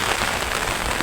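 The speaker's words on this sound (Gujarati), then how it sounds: "અને કાલનો વરસાદ ચાલુ જ છે" Steady, continuous rain that has been falling for about two days makes a dense, even hiss of drops on surfaces, close and unbroken.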